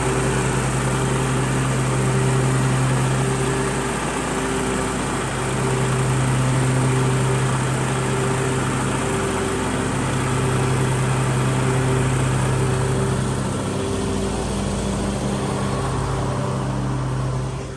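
Lawn mower mowing a weedy lawn, its engine running close and steady throughout with a constant droning hum, no talk.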